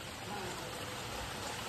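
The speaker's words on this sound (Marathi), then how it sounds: "बाहेर एवढा पाऊस पडते ना" Steady rain falling outside a house, a soft, even hiss that stays unbroken and fairly faint throughout with no voices.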